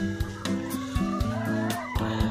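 Chickens in a coop give repeated close clucks and calls, several birds overlapping in a busy, uneven rhythm.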